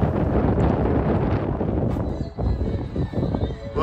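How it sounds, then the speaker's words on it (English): Strong wind buffets the microphone on a Vespa ride through Baja, Mexico, in a loud, continuous roar with gusty swells and no clear voices. "Oh, the wind is picking up."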